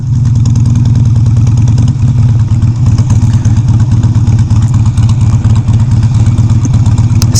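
A Harley-Davidson Sportster motorcycle engine idles steadily close by, a loud continuous low rumble with an uneven pulsing beat throughout, no voices.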